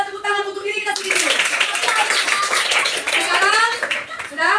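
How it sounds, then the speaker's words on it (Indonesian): A class of children claps for themselves, a brief burst of collective hand clapping surging up after a spoken cue and running under continued voices to the end. "Kita tepuk tangan untuk diri kita sendiri"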